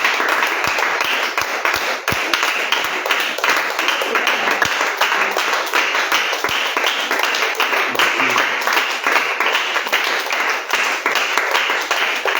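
A congregation at a church service applauds steadily, dense overlapping clapping that fills the room for the whole stretch, with a few sharper individual claps standing out and faint voices mixed beneath.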